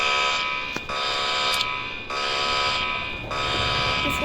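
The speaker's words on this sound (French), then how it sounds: "l'alarme là, elle est depuis tout à l'heure" An electronic alarm buzzes loudly and almost without pause, with a few brief dips in a harsh, steady tone.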